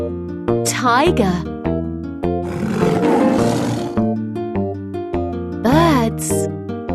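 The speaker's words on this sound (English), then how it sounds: "Tiger." A cartoon tiger gives a loud, growling roar in the middle of a children's nursery rhyme song about an animal fair, with bright music and sung vocals around it.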